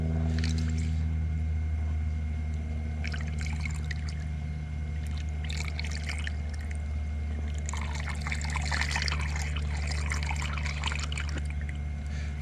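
Water from a pool pump flows steadily into a Skim-A-Round floating skimmer, a continuous trickling and pouring sound over a low mechanical hum, with bursts of splashing.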